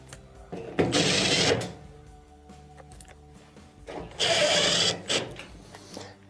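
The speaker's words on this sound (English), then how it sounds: "let's go ahead and reinstall the 3 screws" Two short whirring bursts from a power driver reinstalling screws on a washer console assembly during a repair, each lasting under a second, with a quiet pause between them.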